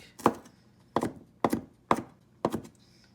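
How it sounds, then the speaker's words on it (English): Garlic being minced with a knife on a cutting board for a sloppy joe recipe: five crisp, evenly spaced chops, close and clear, with no talk. "just mince the garlic"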